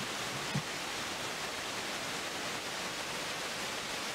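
Roar of a waterfall, a steady, dense rush of falling water heard alone and unbroken for a few seconds.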